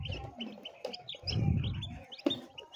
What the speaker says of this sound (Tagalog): Ayan po ang ating mga sisiw.